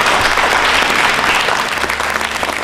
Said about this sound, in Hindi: इसके लिए भी तालियां बजा सकते।